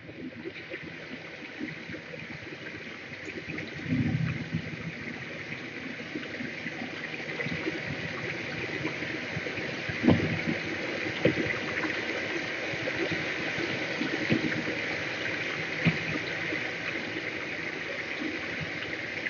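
Flowing water from a stream in the survival game The Forest runs as a soft, steady rush in the background, with a few faint thumps and movement sounds over it.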